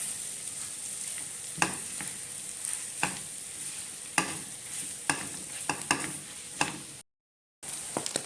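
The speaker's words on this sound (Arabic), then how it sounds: "وهقعد كده اشوح فيها مع الزبده والثوم كده لمده حوالي 5 دقايق" Fish tripe fries with butter and garlic in a pan, giving a steady, bright sizzle punctuated by regular clanks and scrapes of stirring, with a brief silent break near the end.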